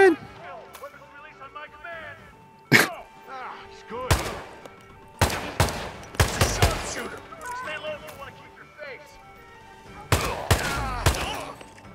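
Gunshots in the stealth game Hitman 2, several sharp loud blasts scattered across the scene, some in quick bursts, with game voices and talking mixed in between.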